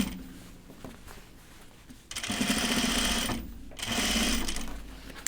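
A sewing machine stitches down the facing along a garment edge, running in two steady, close, buzzing bursts separated by a brief pause, after a quieter stretch of handling.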